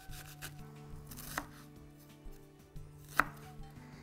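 Knife working through a large onion to cut it into rings on a board, giving soft, quiet, uneven cuts with a couple of sharper taps, in a quiet kitchen.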